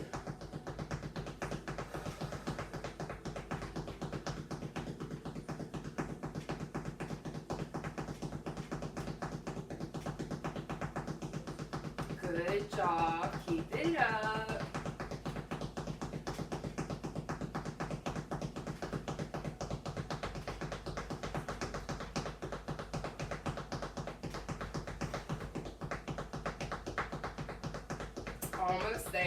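Rapid foot tapping on the floor during a seated cardio workout, a steady quick patter running under background music while an instructor speaks encouragement.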